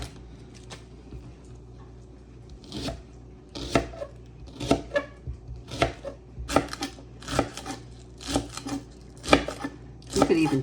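Green onions chopped on a cutting board, a series of crisp knife thuds in uneven bursts that grow quicker and louder toward the end, close up, with no one talking.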